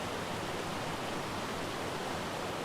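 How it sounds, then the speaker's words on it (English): A loud waterfall in the ARK video game, a steady broadband roar of rushing water that stays constant and fills the scene with no voices. "It's always really loud over here with the waterfall."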